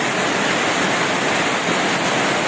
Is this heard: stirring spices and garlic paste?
no